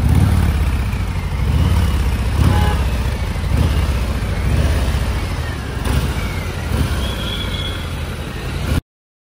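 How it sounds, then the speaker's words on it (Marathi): Up close, a 1900 cc Harley-Davidson Fat Boy 107 motorcycle engine runs with a heavy, pulsing low rumble and slight revs, steady and loud until it abruptly cuts off. "हार्ले डेव्हिडसन फॅटबॉय 107 आहे ही आणि 1900 cc ची गाडी आहे"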